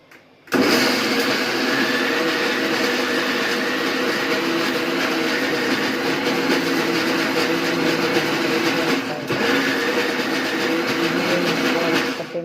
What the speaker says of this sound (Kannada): ಈಗ ಮಿಕ್ಸಿ ಮಾಡ್ತಾಯಿದ್ದೀನಿ ನಾನು.